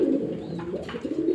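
Pigeons at a market stall coo in low, soft, repeated throaty calls, close by, with faint background bustle and no talk.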